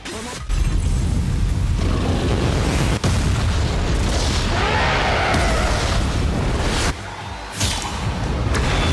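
A Soul Bomb attack in the Bleach Brave Souls game erupts as a loud, sustained explosive roar lasting several seconds, broken by a couple of sharp impacts, with a brief dip near the end before it swells again.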